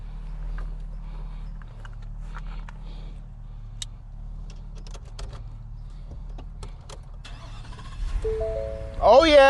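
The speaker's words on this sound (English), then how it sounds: "Let's start this truck up" A WMS 1000 (Project LOBO) truck engine cranks and turns over near the end, with ticks and clicks and a low idle hum beforehand.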